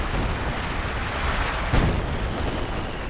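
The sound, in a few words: artillery fire in video game Company of Heroes 2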